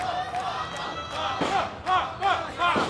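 An arena crowd at a tag team pro wrestling championship match at an anime convention in Las Vegas roars and shouts, with sharp thuds and slams from the ring and a commentator talking over it.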